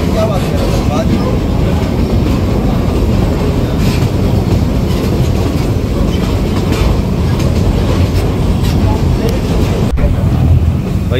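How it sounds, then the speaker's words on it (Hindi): A train slowly crossing a bridge, a loud continuous rumble and rattle of the carriages over the rails with wind buffeting the microphone throughout. "ट्रेन ने स्पीड बहुत आहिस्ता कर दी है, बड़ा डेंजरस पुल है वो, टकाटम टकाम टकाटम टकम जो आवाज़ आती है ना"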